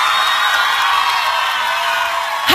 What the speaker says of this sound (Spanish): Fuerte el aplauso para ellos, por favor.